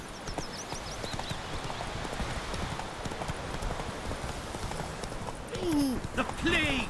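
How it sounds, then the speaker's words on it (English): Galloping horse in The Witcher 3, a steady clip-clop of hooves running throughout with short neighs and whinnies near the end, while voices talk over it. "Run, Roach."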